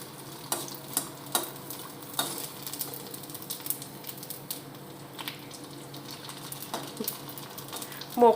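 Sun-dried carrot sandge fry in hot oil with a soft continuous sizzle, broken by a few sharp clicks and taps from stirring; no talking.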